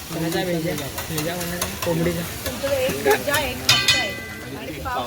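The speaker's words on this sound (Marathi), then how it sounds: "काय बनवतोय? हां भेजा फ्राय." Bheja fry of brain cooking on a street-stall griddle in Mumbai, with a steady sizzle and quick metallic spatula clinks and scrapes, while voices talk nearby.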